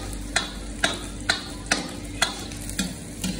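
Onions frying in a pan on a gas stove while being stirred, with a steady low sizzle and sharp spoon scrapes every half second or so, close by.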